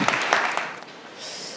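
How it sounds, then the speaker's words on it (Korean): Church congregation at a Korean church in Paris clapping for the worship team, a short burst of applause that quickly thins and fades into quiet room tone. "우리 찬양팀 크게 박수하겠습니다."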